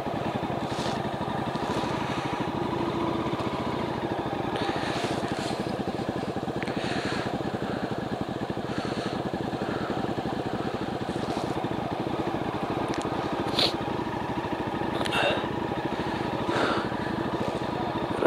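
A motorcycle on the Ladakh coastal route near Pangong Lake and Hanle runs at a constant throttle, making a steady buzzing engine drone with wind rush. The sound is loud and close, with brief higher squeaks and no clear talk.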